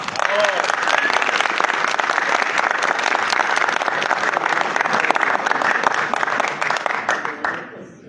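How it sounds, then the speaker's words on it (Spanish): An audience in Medellín gives a sustained round of clapping for speaker Andrés Martínez after his talk on the power of citizen oversight groups. The applause is thick and even, then tapers off at the very end. "le damos nuevamente el aplauso a nuestro ponente, Andrés Martínez"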